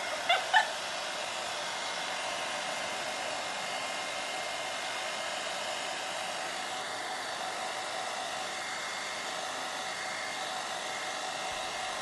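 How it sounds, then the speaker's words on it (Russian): A hair dryer on its cool setting blows air over an oil-soaked seabird during a rescue cleaning in Anapa. It makes a steady, close, continuous whooshing hum with a few faint clicks at the very start. "Ребята используют фен, но в фене холодный воздух, просто продувают птичку."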